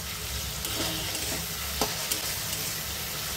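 Pointed gourd (potol) dropped into hot oil with ground spices and stirred, giving a steady close sizzle with scraping stir strokes and a couple of sharper clatters, no talk.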